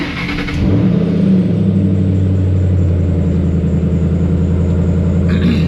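A cold manual-transmission car engine starts with a brief rev, then settles into a loud, steady idle rumble close by, with no talking.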